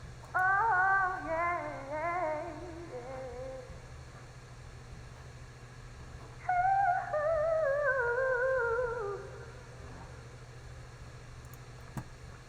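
Two bursts of pitched, gliding vocal fragments, filtered and washed in echo, separated by a quiet pause over a soft steady hum.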